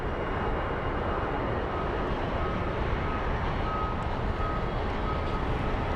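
An aircraft departing Phoenix Sky Harbor airport produces a steady, broad engine rumble and roar throughout, moderately loud and constant, with a faint high tone briefly audible within it.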